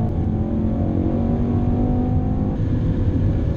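A 2018 Mercedes-AMG E63 S Wagon drones steadily under hard throttle on a racetrack, its engine roar heard from inside the cabin as a continuous, loud rumble with a slight shift in pitch partway through.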